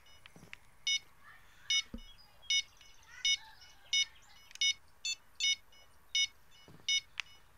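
A fishing rod bite alarm in the Fishing Planet video game, giving a series of about ten short, evenly spaced electronic beeps, fairly clear over a quiet background.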